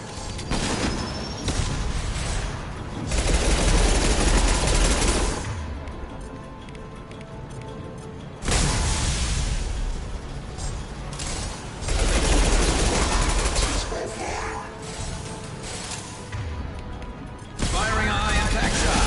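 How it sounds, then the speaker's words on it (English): Heavy bursts of weapon fire in Mass Effect 2 come in long loud blasts separated by quieter stretches, a sustained crackling barrage repeating several times. "Firing a high impact shot."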